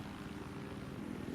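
Little Bird helicopter in Battlefield 4, a steady rotor and engine drone with rhythmic low thumping, continuous and moderately loud with no talk over it.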